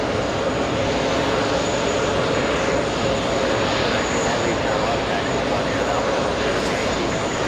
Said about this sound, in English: That exact aircraft, a 767-300ER.